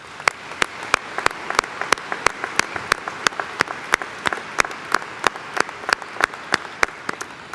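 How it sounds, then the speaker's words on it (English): Applause from a spring commencement audience for honor students, with a soft crowd wash under regular, prominent claps that stand out close by in a steady rhythm. "Let's give them a round of applause."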